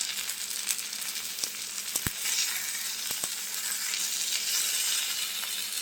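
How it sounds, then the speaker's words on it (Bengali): Eggplant frying and charring in a pan for bhorta, a steady close sizzle throughout with a few sharp utensil taps against the pan and no voices. "আমি এই বেগুনটাকে একটু পোড়া পোড়া করে ভেজে নিব"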